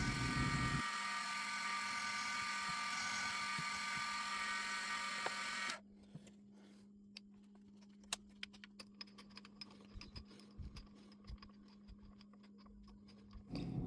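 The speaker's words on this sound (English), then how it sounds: "I had to use the third drill to get all the way through." A drill bit grinding through a long piece of cast iron for a model steam engine's boxbed: a loud, steady, high whine for about six seconds, then it stops, leaving quiet with scattered small clicks and taps.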